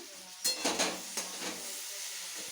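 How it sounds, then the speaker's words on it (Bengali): Potatoes, bitter gourd and pumpkin frying in a home kitchen pan, with a few close stirring scrapes and clinks over a soft steady sizzle and hiss lasting about two seconds. "এখানে হচ্ছে আলু উচ্ছে কুমড়ো আর আলু ভাজা করছি"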